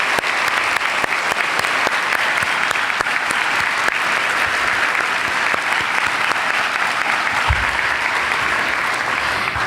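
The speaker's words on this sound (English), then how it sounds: "Please join me in giving this person a round of applause" Loud, sustained audience applause fills a graduation ceremony hall, dense steady clapping from a large crowd continuing throughout without a break.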